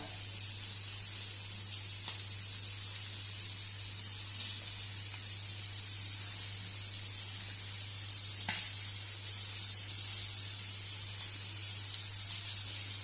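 Goan-style prawns fry in a pan with a steady, close, hissing sizzle that holds at an even level throughout, with a couple of faint clicks and no talking.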